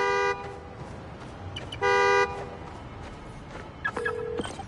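A car horn in the Spider-Man Miles Morales video game, set off from a key fob: two loud, steady honks about a second and a half apart, followed by a shorter chirping tone, all over city ambience.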